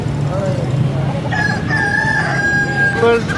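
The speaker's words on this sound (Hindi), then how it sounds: "हफीज़ भाई ये कौन सा मुर्गा ह" A rooster crows in the background amid steady outdoor murmur and low rumble at a rooster market in Multan, with a few other birds faintly audible.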